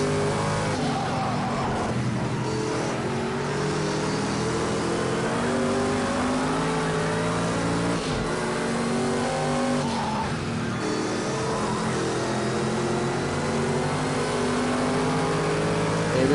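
Race car engines roar continuously through a Le Mans one-hour race in Project Cars 2, a steady loud drone with shifting revs and gear changes, as if heard from inside a car running among others.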